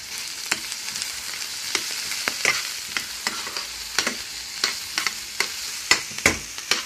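Onions fry in hot oil in a pan, giving a steady close sizzle broken by regular sharp clicks and scrapes as they are stirred, with no talking.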